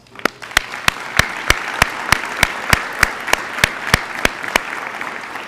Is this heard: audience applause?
yes